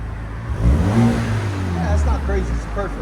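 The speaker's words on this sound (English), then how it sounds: "Ford Fusion EcoBoost" A 2013 Ford Fusion with the 1.6L EcoBoost engine and a muffler-delete exhaust revving up close, a loud, rising engine drone heard under people talking.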